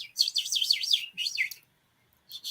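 A person whistles in imitation of tweeting birds, producing rapid warbling, chirpy trills in two close bursts, then a pause and another short burst.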